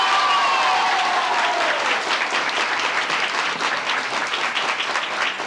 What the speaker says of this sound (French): Danielle Mondou, qu'on applaudit.